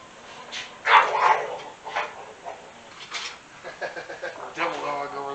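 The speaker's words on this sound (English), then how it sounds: "Devil dog over there playing." A playful dog gives a few scattered barks and yips at moderate distance, mixed with faint background voices in a kitchen.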